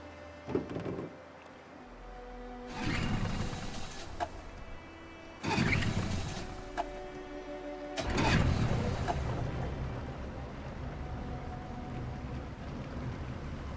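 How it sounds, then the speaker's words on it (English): A boat engine in the Detroit Become Human video game cranks in two short bursts, then catches and keeps running as a steady, fairly loud drone. "Let's get that engine going."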